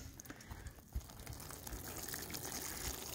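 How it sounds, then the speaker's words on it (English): Water poured onto soil in seedling pots while starting a garden, a soft, close, continuous trickling and gushing that stays quiet and steady throughout. "Now he's going to put some water on."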